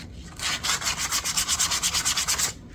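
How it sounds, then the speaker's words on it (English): Reclaimed wood cutting boards, with knots and cracks filled with epoxy, get a quick hand sanding before coating. It makes a close, steady run of about fifteen rhythmic scratchy rubbing strokes for roughly two seconds, with no talk. "just a quick sanding on them before I coat them"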